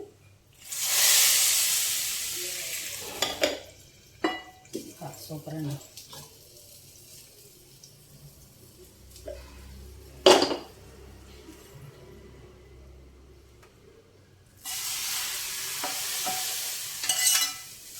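Spices crackle and sizzle loudly as they hit hot oil for tempering moong dal, once at the start and again near the end, with a quiet stretch and brief talking in between.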